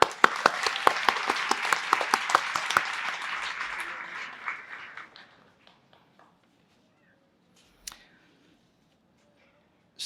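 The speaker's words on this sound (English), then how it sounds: "we will still give him an applause" An audience claps at a university commencement ceremony, a steady burst of applause that fades out after about five seconds into near silence, with a single faint tap later.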